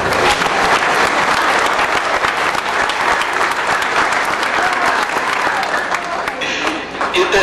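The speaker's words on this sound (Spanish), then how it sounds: "aplauso, por favor." Audience applauds loudly at a 2008 high school graduation surprise dance, a dense continuous clapping that holds steady for several seconds before easing slightly at the end, with voices mixed in.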